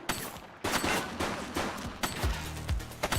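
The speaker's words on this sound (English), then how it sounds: "He's shooting!" Gunfire in the police game The Precinct: a series of sharp, loud shots spaced irregularly across a few seconds, some in quick pairs, cracking over a steady background hum with no voices.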